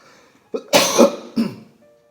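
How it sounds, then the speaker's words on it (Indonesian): A person coughs a few times up close, two harsh bursts followed by a shorter one, with quiet pauses between. "Duh jadi batuk saya."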